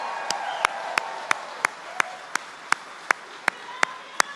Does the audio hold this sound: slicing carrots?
no